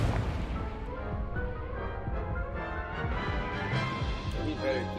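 Confringo and Incendio spells are cast in the wizarding video game Hogwarts Legacy, giving dense, continuous fiery crackling and blasting bursts that run loud and steady for several seconds amid combat effects.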